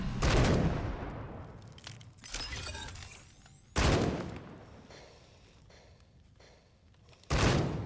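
Automated turret gunfire in the video game Wasteland 3, with several loud bursts of shots and sharp crashing impacts that come in spaced clusters and each fade out before the next.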